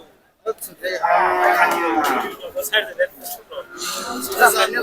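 Cattle moo loudly and repeatedly amid a busy crowd at the Kalampur cattle market before Eid al-Adha, with people talking and shouting nearby.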